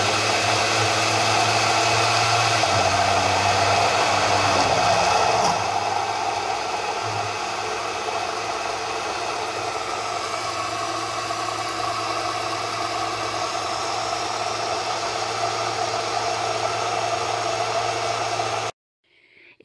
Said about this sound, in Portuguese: Agora nós vamos bater até que essa mistura fique bem homogênea.